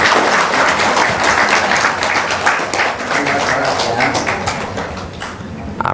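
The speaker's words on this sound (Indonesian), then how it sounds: "Tepuk tangan." Audience applause at a gathering for an arriving guest, a dense steady patter of many hands clapping close by for several seconds, tapering slightly toward the end, with faint voices mixed in.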